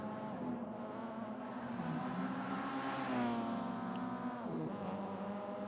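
Mitsubishi Evo X race cars lapping a track, a sustained loud engine drone with shifting revs and a rising, falling pitch as cars pass, steady throughout without talk.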